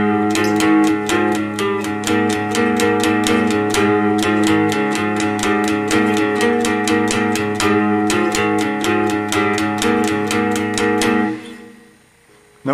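Electric guitar playing a riff with bent notes, a steady run of quick, evenly picked notes ringing loud and close for about eleven seconds before cutting off.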